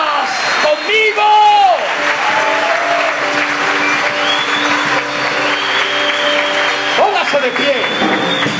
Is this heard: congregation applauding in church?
yes